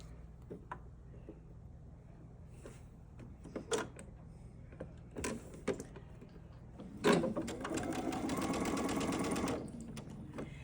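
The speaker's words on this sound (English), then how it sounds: "stitch along those seams from corner to corner" A sewing machine runs a short burst of even whirring stitching along quilt block seams, following a series of quiet taps and handling clicks.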